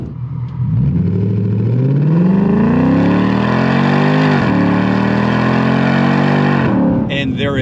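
A 2024 Mustang GT with a Magnaflow X-Mod exhaust and resonator revs up loudly and close, climbing through a long rising pull with a brief dip in the middle before a final surge, then cutting off.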